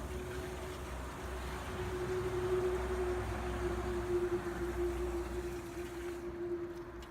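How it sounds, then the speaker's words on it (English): Water running steadily into a garden bucket for planting, filling it toward the overflow hole; a continuous, even rushing stream with a steady tonal hum, close and moderately loud, no voices. "fill up the bucket to the overflow hole with water"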